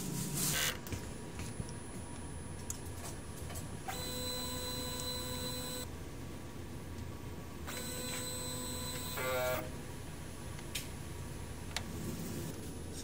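DTF printer running a heat clean cycle, a continuous mechanical hum with ticking clicks, interrupted by two stretches of steady whining motor tones with a rising rattle at the end of the second, close and moderately loud.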